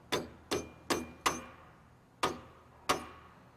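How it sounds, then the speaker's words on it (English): A brass hammer taps a key into a keyway during Besser Posapac assembly, giving six sharp metallic taps, four quick ones and then two more after a pause, each with a short ringing decay in a quiet room. "Setting the key in using a brass hammer,"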